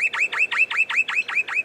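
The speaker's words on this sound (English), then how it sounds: "we can hear the little bird up in the tree up there" A small bird up in a tree at a country community gathering chirps in a fast, even series of about eight bright, close, clear notes.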